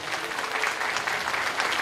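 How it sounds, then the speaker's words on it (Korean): Brief, steady audience applause at a university special lecture, welcoming two speakers, a party leader and a philosophy professor, to the stage; dense clapping with no voices over it. "두 분께 박수 한 번 더 부탁드릴 수 있을까요?"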